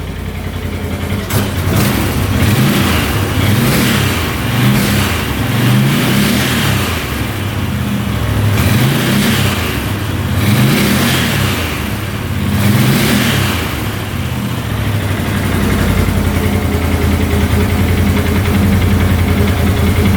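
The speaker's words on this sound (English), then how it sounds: "Revs out pretty good" An ATV engine revs repeatedly in loud rising-and-falling bursts, then settles into a rough steady idle, close by with no talking.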